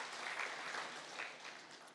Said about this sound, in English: I hope Prof. Volker and Dr. Joanne, you heard the room clapping for you